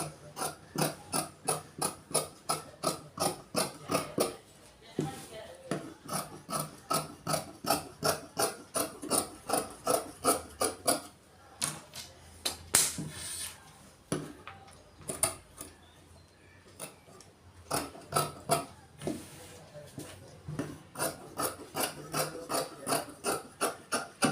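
Scissors cutting chudithar fabric sized for a 39-inch body, a steady run of crisp snips repeating rhythmically for long stretches, pausing briefly in the middle before resuming, close and clear with no voices.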